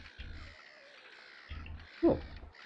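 Crows cawing in a video game, birds angered and calling in short rough bursts, a couple of low thuds and one sharper louder caw near the end.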